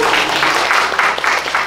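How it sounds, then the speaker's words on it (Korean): Short, loud burst of applause from a class audience at a voice course on Italian art songs, dense clapping running the whole moment with no talk over it. "박수 한번 주세요."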